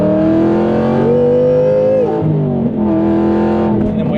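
An Aston Martin V8 Vantage with an X-pipe exhaust, cats and a stage 2 tune roars loudly and close up on a downshift, its pitch climbing and then sliding back down in a steady tone.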